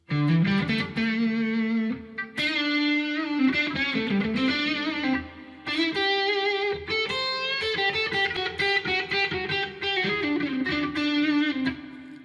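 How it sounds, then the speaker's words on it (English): An electric guitar, a Chibson SG, plays a sustained melodic line with a warm, rounded neck-pickup tone and mild overdrive, played solo. "I like a Les Paul neck pickup, the sound, or an SG, to sound like this"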